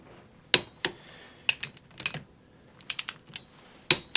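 Torque wrench clicking while tightening ring gear bolts on a Dana 41/44 rear axle of a Willys Jeep, set to 55 foot-pounds: a handful of sharp, separate clicks spaced irregularly, close and fairly loud against a quiet shop.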